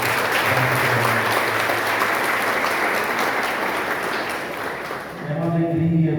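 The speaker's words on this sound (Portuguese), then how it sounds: "Para os nossos noiteiros, uma bonita salva de palmas." Steady, dense applause fills a church chapel festival hall at close range, sustained for several seconds before briefly dipping as a voice begins speaking over the tail end.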